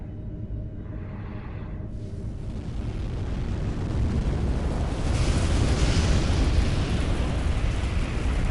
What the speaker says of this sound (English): Pretty red fire.